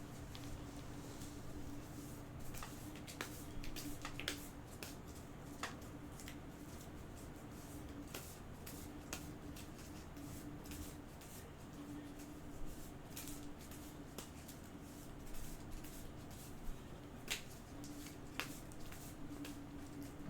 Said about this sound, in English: So now I have to shuffle these back in.